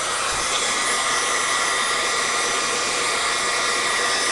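A hair dryer blowing on a freshly painted piece runs as a continuous loud airy whoosh, steady and close for the whole stretch with no voices.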